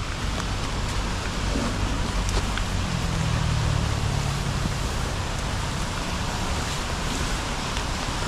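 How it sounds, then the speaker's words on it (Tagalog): Heavy rain pours steadily outdoors along a path, a dense continuous hiss that stays loud and even throughout with no talking. "Medyo malakas po yung ulan."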